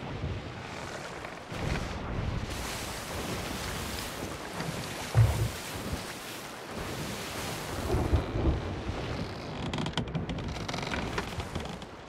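A storm in the Sea of Thieves pirate game brings steady roaring wind and rumbling thunder, with occasional creaks and knocks from a wooden sailboat over the churning noise.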